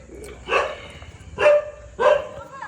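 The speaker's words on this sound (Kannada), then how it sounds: "ಅಲ್ಲಿ ನೋಡಿ ನಾಯಿ" A dog barks three times in quick succession, each bark a loud, sharp burst at close range with short pauses between them.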